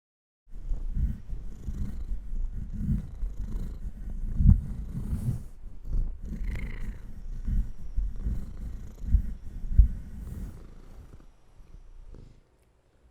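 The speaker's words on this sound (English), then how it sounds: "so I figured just let him purr into the microphone" A pet cat purrs close into a microphone, a steady low rumbling purr running for about twelve seconds with a few soft breaths and small shifts, alone with no talking.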